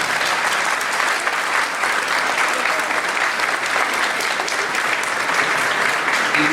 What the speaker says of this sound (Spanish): Yo quisiera que brindemos un fuerte aplauso al doctor Juan Monroy Galvez.